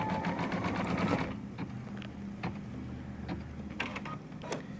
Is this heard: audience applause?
no